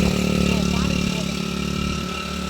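Motorbike riding through a monsoon-flooded village road, a steady mid-pitched engine drone with some splashing texture, close and continuous, fading slightly toward the end.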